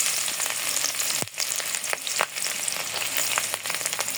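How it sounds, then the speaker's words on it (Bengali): Onions and chillies hitting hot oil in a wok, giving a dense, steady sizzle with a few sharp crackles and spatters throughout, close and fairly loud, no voices. "এখন দিয়ে দেবো পেঁয়াজ মরিচ।"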